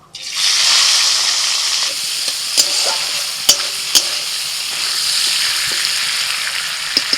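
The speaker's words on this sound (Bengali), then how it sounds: "কড়াই তেল দিয়ে দিয়েছি, এবার চিংড়ি মাছ দিয়ে দিচ্ছি।" Prawns drop into hot oil in a wok and set off a loud, bright, sustained sizzle. Sharp scraping clicks from stirring break in every second or so as the frying continues steadily.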